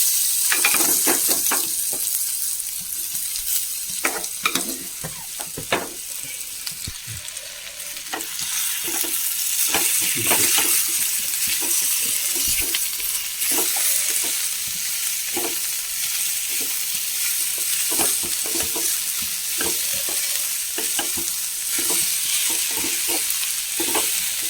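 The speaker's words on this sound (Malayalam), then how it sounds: "നന്നായി ഇളക്കി മൂപ്പിച്ചെടുക്കാം" Onions sizzle steadily in a hot pan for a papaya stir-fry, a continuous bright frying hiss with repeated scraping stirs of a spatula over the whole stretch.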